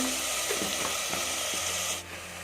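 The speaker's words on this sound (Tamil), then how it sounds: "இஞ்சி பூண்டு அதெல்லாம் நல்லா வதங்கிடுச்சு வெங்காயத்தும்" Onions with ginger-garlic paste sauté in a hot pan with a loud, continuous close sizzle and a few faint stirring scrapes.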